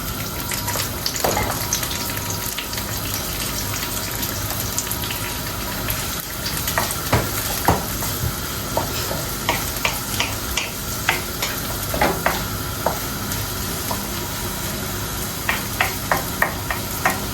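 Onions fry in mustard oil with curry leaves, a steady sizzle with bright spitting pops and crackles throughout, punctuated by scraping stirs in the pan.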